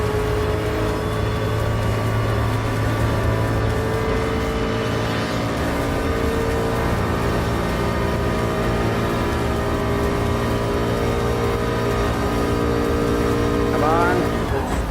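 A race car engine in Gran Turismo Sport, a Gr.3 Ford GT LM Spec II test car, roars and revs steadily, the tone shifting as cars pass, with a dense mechanical hum throughout.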